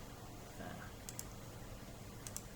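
Two pairs of quick, sharp computer mouse clicks, right-clicks on a desk while working in CorelDRAW, come through faint and close against a quiet background hiss.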